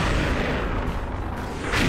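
A continuous, rumbling burst of explosion noise fills the moment in the online shooter XSHOT on a mummy warehouse map. It is dense and loud, with no clear voices over it.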